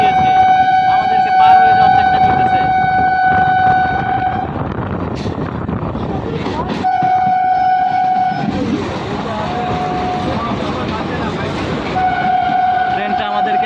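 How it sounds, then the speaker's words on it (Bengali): Two trains run side by side on the rails with a loud, steady rumble and clatter. Long horn blasts sound repeatedly, and someone talks over the noise. "দুইটা ট্রেনের মধ্যে প্রতিযোগিতা এই যে আমি আপনাদেরকে ফার্স্ট দেখানোর চেষ্টা করতে করতেছি অনেক জোরে শুরু হয়ে গেছে"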